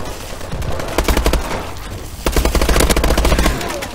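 Rapid bursts of automatic gunfire in an elite gun challenge shooter video game, loud and close, two sustained volleys separated by a brief pause.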